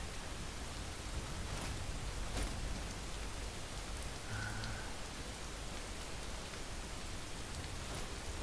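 Steady rain falls in Skyrim Special Edition, an even, hissing downpour with scattered drops on surfaces, constant and unbroken, with no voices.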